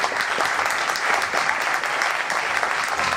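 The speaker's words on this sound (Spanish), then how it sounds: "Así que pido un fuerte aplauso para ellos." Audience at a talks event applauding, a dense, steady wash of clapping from many hands at even loudness throughout, no voices over it.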